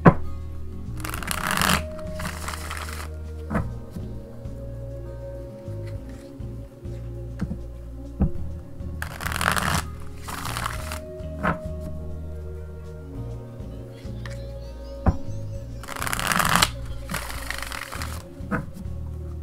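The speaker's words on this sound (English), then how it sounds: "shuffle the cards now" A deck of tarot cards is shuffled in several bursts of rapid riffling, separated by quieter stretches of handling and faint tapping.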